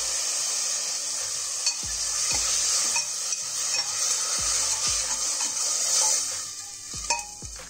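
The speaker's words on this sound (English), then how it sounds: "Stir this well and add in the curd." Tomatoes and curd stirred in a hot pan with ginger and garlic while cooking kuska rice: a steady sizzle of frying underneath repeated scraping strokes of a spoon against the pan.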